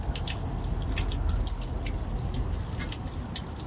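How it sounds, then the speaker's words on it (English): Water drains from the drain valve of a Truma water heater in a camper van, a steady close splashing trickle with scattered drips. "You can see it's draining nicely."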